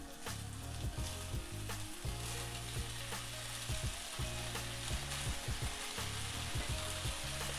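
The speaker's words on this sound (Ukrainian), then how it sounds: "Даємо наші всі ковбаски на розігріту пательню." Sausages and smoked brisket sizzle steadily in a heated pan with no oil, a dense continuous frying hiss broken by repeated scraping and stirring knocks throughout, close and fairly loud with no talking.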